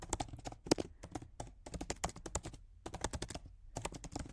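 Rapid keystrokes on a computer keyboard while entering a mail-to link for an icon, a dense run of sharp clicks in quick bursts with a few short pauses, close and clear with no talking.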